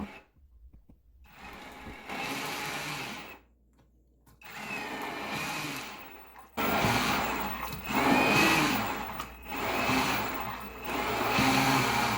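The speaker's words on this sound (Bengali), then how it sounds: "হ্যান্ড মিক্সার দিয়ে ভালো করে মিক্স করে একটা ফাইন পেস্ট তৈরি করব।" An electric hand mixer runs in several bursts, whirring and droning with short pauses, then grows louder and harsher as it blends.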